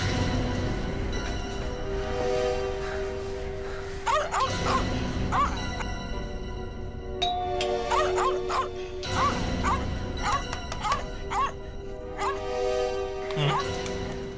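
A distressed dog locked inside a house barks in repeated yips and whimpers across the whole stretch, with voices and background noise mixed in.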